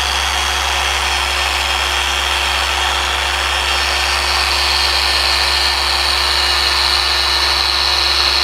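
A polishing machine set to speed 3.5 working a Vespa body panel, giving a steady loud motor whine with a constant high hum and no pauses or voices.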